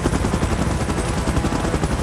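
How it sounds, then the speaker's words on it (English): A helicopter in the video game PUBG beats steadily with a loud, close, rapid rotor chop and a dense engine roar, continuous and unbroken, with no voices. "Chopper in position."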